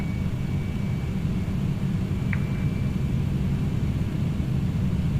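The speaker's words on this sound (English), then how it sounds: "Let's get our reversers to full" MD-11 jet engines roaring in reverse thrust at full power just after landing in Microsoft Flight Simulator, a steady, loud, dense low rumble that holds constant throughout with no talk.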